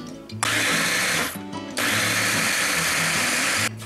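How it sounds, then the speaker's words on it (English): A small electric food chopper whirs loudly while chopping carrots for a carrot cake, running in two steady bursts split by a short pause. The motor sounds close, and nobody talks over it. "go ahead and crush up our carrots. Okay, chopping the carrots"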